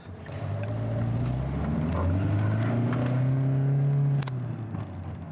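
A car specially adapted with prosthetic-style controls for a driver without arms or legs, its engine droning steadily and close, rising and settling as it drives along, with no talk.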